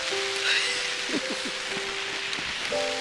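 Steady rain patters across the whole stretch, a dense even hiss with a few brief tonal tones and faint knocks in the background.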